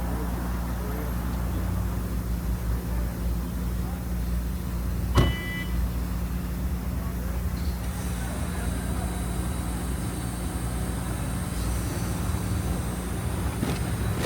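A repaired, previously written-off BMW i3 electric car drives along with a steady low road and cabin rumble and no engine note, a brief click midway, and people talking inside.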